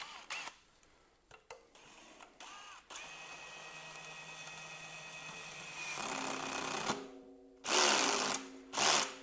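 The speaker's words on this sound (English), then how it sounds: "you can put in an appropriate bit and tighten up your drum head" A cordless drill on its lowest setting tightens the tension rods of a drum head, whirring in short bursts and then a longer sustained whine, ending with a couple of louder revving pulses, close up and alone.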